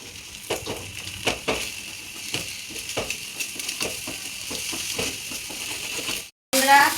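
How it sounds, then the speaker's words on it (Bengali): An egg frying in oil in a pan for a homemade pasta dish, scraped and chopped into small pieces with a utensil: a steady, rhythmic run of close scrapes and taps over a soft sizzle, cut off briefly near the end. "ডিমটাকে গুঁড়ো গুঁড়ো করে দেবেন টুকরো টুকরো করে ভাজবে ডিমটা"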